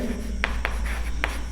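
Chalk or marker strokes on a board during a chemistry lesson, three short scratchy strokes standing out over a steady low hum, with no voices.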